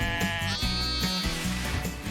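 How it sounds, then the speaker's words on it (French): Several sheep from a flock of ewes grazing on salt meadows in the Cotentin bleat loudly and close by, with overlapping wavering calls that sound almost continuously. "elle a 120 brebis qui pâturent dans les prés salés de Saint-Germain-sur-Aie"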